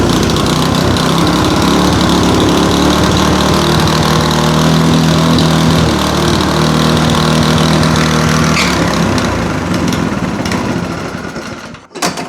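A free small engine with a fuel delivery problem runs loud and close in a steady, buzzing drone, then sputters and cuts out at the very end.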